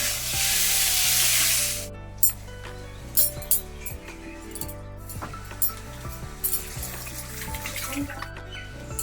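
Mutton pieces with a pinch of salt hit a hot pan with a loud burst of hissing that drops after two seconds into a lower sizzle, punctuated by metallic clinks of a utensil, with steady tonal background sound throughout.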